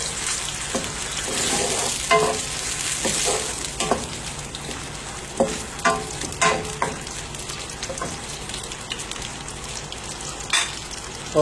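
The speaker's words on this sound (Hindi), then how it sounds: "अब इसमें मैं तकरीबन 2 टेबलस्पून जो है वो वाइट विनेगर डाल दूँगा" Chicken and vegetables sizzle steadily in a hot pan as white vinegar goes in, with a spoon stirring and scraping in intermittent clicks over the constant frying hiss, close up and without talk.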